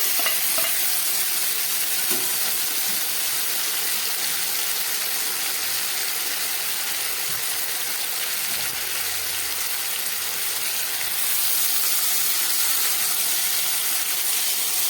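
Ground mustard and poppy seed paste with green chilies frying and being stirred in a pan, a steady close sizzle and hiss running without a break, with faint stirring scrapes and no voices.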